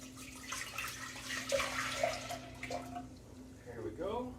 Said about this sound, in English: let's put the water and soy sauce in the pan